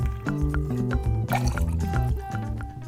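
Pineapple rum glugging and splashing as it pours into a glass, with bubbling, gurgling tones rising in pitch over a few seconds, close and clear.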